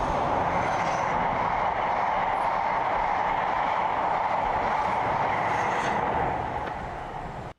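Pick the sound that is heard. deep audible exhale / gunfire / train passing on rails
train passing on rails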